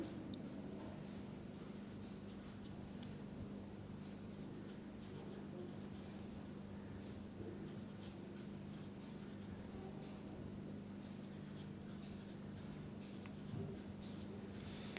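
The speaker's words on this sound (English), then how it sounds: "Similarly, let me write for sulfur as well." Someone writes chemistry notes in pen or marker, giving faint, continuous scratchy strokes over a quiet background hum with no talking.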